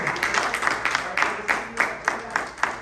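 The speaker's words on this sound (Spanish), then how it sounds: "dale un aplauso" A church congregation claps to welcome a guest at a service, in uneven bursts of hand claps that rise and fall at moderate loudness over a few seconds.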